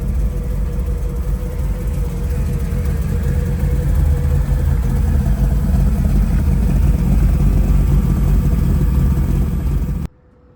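A 1948 Ford Deluxe Tudor with a 327 V8 and 700R4 transmission drives along with a steady, loud, low engine drone and road rumble that holds even throughout, then cuts off abruptly at the end.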